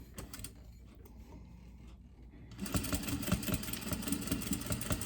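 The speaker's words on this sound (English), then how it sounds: "I'm going to top stitch 1/8 of an inch on the cork side." A sewing machine topstitches an eighth of an inch from the edge on cork fabric for a zip pouch, with a quiet start giving way to a louder, steady mechanical running hum with rapid needle rhythm for the latter half.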